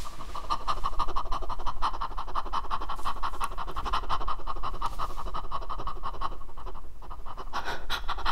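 A singer mimics a dog's panting with rapid, rhythmic, breathy huffs, close and steady for several seconds without a break.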